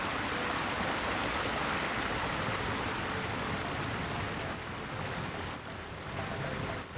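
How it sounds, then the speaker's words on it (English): Water from a small waterfall feature on a built-in hot tub splashing and rushing steadily on an outdoor deck, a continuous broadband wash that stays loud throughout without any voices. "it's got a built-in hot tub with a nice little waterfall feature there"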